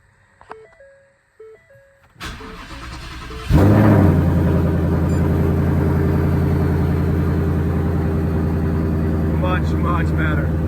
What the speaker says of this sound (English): I'm gonna do the first cold start with the track exhaust.